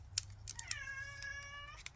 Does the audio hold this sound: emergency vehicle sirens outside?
no